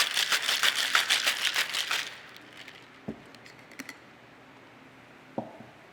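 Cocktail shaker packed with ice shaken hard for about two seconds, a fast rhythmic rattle close by, followed by quieter clinks and taps.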